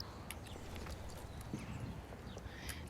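Horse hooves clip-clop in the online game Star Stable as a mountain horse of Jorvik moves along, a steady patter of soft hoofbeats over a continuous low ambient bed with no talk.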